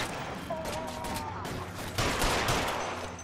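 Gunfire in the video game L.A. Noire, a shootout with scattered shots cracking over background noise, a louder burst near the end, with a character's voice line mixed in.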